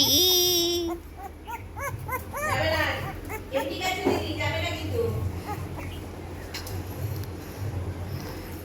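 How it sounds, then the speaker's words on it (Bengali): Dogs whimper with high, rising whines and a few yips early on, then fade under a bustle of children's voices and adult chatter nearby. "তোমার দেখাই এখানে কি খবর এই কুকুরগুলোর"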